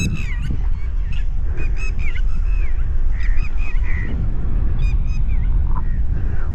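Repeated goose-like honks from a flock of birds flying high over a paddy field, over steady outdoor background noise.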